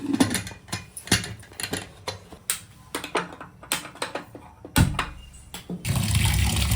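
Ration rice being washed in water by hand: sloshing and splashing with irregular wet clicks and swirls, then a fuller rush of water near the end.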